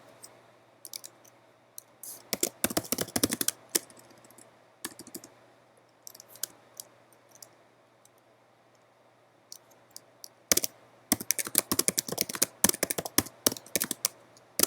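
Computer keyboard typing in bursts of rapid clicks, a cluster early on, scattered single keystrokes in the middle, then a longer dense run near the end, close and clear with no talking.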